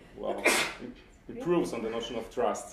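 A single sneeze bursts out between stretches of talk during a technical livestream, close and loud against a quiet background.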